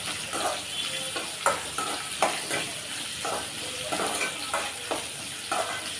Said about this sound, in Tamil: இப்போ இது கூடவே 2 மீடியம் சைஸ் வெங்காயம் கட் பண்ணி வச்சுருக்கேன், அதை சேர்த்துடலாம். இப்போ இது நல்லா வதக்கி விட்டுக்கலாம்.